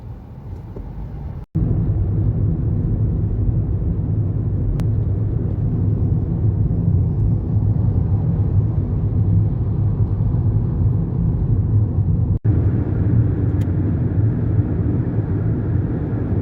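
Inside a car driving through Moscow, a loud, steady low road rumble fills the cabin, broken by two brief dropouts.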